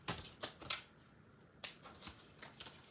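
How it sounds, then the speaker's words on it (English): A die cutting machine cutting paper, heard as a series of sharp, brushy crackles and clicks in irregular bursts at close range, fairly quiet, with no talking. "I'm gonna die cut two of them."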